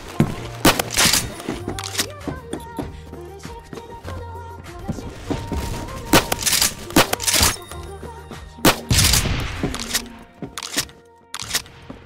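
A KS-23M slug shotgun fires repeatedly in the Roblox shooter Phantom Forces, a string of sharp, loud cracks spaced unevenly across the stretch, mixed with clattering game effects and footsteps.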